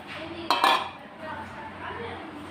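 Thotakura kadalu pulusu, an amaranth stem curry, is stirred in a pot with a quick metallic scrape and clink of utensil against metal, then settles into a low background hum.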